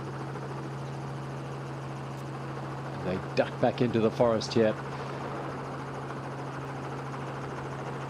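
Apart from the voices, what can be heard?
helicopter filming the Cape Epic mountain bike race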